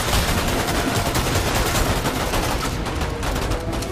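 Rapid, continuous automatic gunfire in a Fortnite battle, the sustained burst of shots loud and dense from start to finish with no talk over it.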